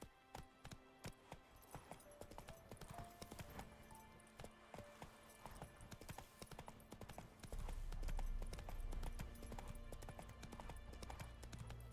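Roach, a horse in the video game The Witcher 3, gallops with rhythmic hoofbeats that quicken into a rapid run, accompanied by a low rumbling that swells partway through.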